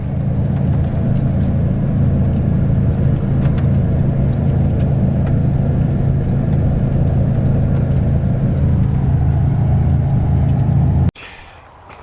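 A car drives along a road, its engine and tyre rumble forming a steady, loud interior drone that cuts off abruptly near the end.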